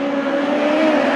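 USAC National Midget race cars accelerating together at the green flag at Gas City I-69 Speedway, a loud, dense, sustained engine roar with a steady rising whine and no break.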